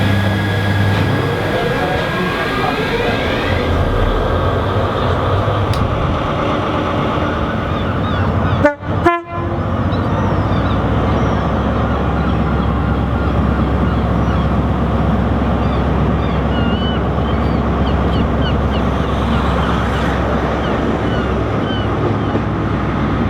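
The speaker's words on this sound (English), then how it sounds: "I just wanted to record the moment that I was inside the cab of an HST." HST train engine heard from inside the driver's cab, a steady loud diesel drone and rumble with a brief sharp clunk partway through.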